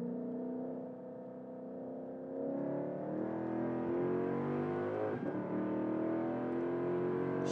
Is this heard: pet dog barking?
no